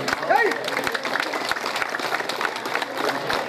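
An audience claps loudly, a sustained dense wash of applause with voices audible amid it.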